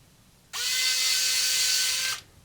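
An electric screwdriver whirs for about one and a half seconds as it drives a screw into the back of a Casio AE-1000W watch, a close, steady high whine that starts and stops abruptly in a quiet room.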